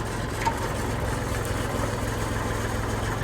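Kubota L3608 36 hp tractor engine idling steadily at low revs, a continuous low diesel rumble with faint vibration, nearby and fairly even throughout.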